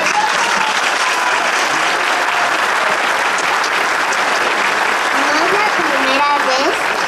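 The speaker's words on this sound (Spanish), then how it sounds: "Un aplauso, presidenta" Applause fills a press conference at Mexico's Supreme Court, a loud, sustained wash of clapping with some voices and cheers rising within it.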